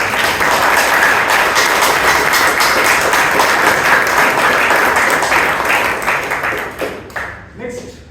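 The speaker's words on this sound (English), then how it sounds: "Let's give a lot of applause." Audience applause at a Bangalore Toastmasters club meeting, loud and dense clapping that holds steady for several seconds, then thins out and fades at the end.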